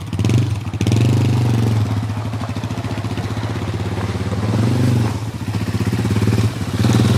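Bombardier DS 650 Baja quad running steadily nearby, a low throbbing engine drone with rhythmic pulsing that swells and eases slightly as the throttle varies.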